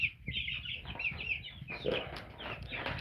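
Several chickens cluck and chatter in a coop together, with no single bird standing out. The calls are close, busy and overlapping, and they continue steadily over a low background.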